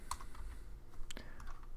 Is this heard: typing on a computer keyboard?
yes